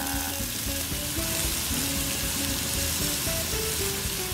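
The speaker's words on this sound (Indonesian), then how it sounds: "Sekarang waktunya kita mau buat sambal rica-ricanya." Spices for Indonesian sambal rica-rica, to go with lobster, sauté in a hot pan with a steady, loud, close sizzle and crackle that holds without pause.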